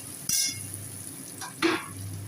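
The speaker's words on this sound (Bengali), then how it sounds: "সামান্য ধনের গুঁড়ো ভালো করে কষিয়ে নেব" Coriander powder with spices being stir-fried in a pan alongside cabbage. A quiet sizzle sits under two short louder bursts of scraping and stirring, with no voices.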